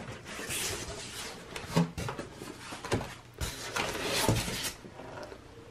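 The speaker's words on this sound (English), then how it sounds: "Just open it up here and show you how they ship it." An Austin Air purifier weighing about 50 pounds being unboxed from its cardboard shipping box, giving a string of irregular thumps, scrapes and rustling cardboard knocks at close range.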